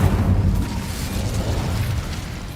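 A fire spell explosion in the video game Hogwarts Legacy: a loud, rumbling boom that holds for a couple of seconds, with no talk over it.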